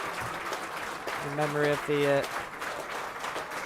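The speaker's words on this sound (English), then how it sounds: "That round of applause you can hear around the ground" Crowd applause rolls around a football ground during a Marine vs Marske United Northern Premier League match, a steady broad wash in memory of someone, with a commentator talking over it.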